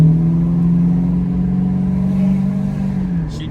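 A 1985 Oldsmobile Cutlass V8 engine pulls hard under acceleration, a loud, steady low drone rising slightly then easing off near the end, heard from inside the car with no talking.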